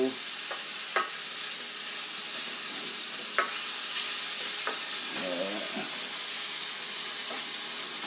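Beef browns in a pan with a steady, even sizzle, broken by occasional light scrapes and stirring clinks.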